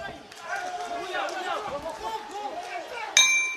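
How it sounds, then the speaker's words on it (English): A bright boxing ring bell clangs sharply near the end of a round at an amateur boxing world championship, cutting through steady crowd noise and commentary-like chatter that fills the rest. "the bell does go"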